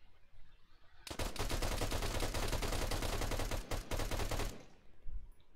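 Semi-automatic pistol fire in a video game, a rapid, steady string of loud, close shots lasting several seconds, with a brief pause near the end before stopping.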